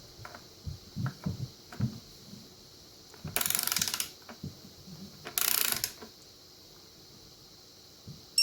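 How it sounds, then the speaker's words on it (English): Torque wrench ratcheting engine bolts to 15 foot-pounds during a 7.3 engine build, with quick bursts of clicking ratchet strokes, two longer rasping runs of clicks, and scattered metallic taps nearby. "let's set the torque wrench up and get them torqued in"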